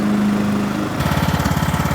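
A 2003 Craftsman LT2000 riding lawn mower engine runs loud and close, first a steady drone with a high whine, then shifting into a choppier, pulsing, throbbing chug halfway through.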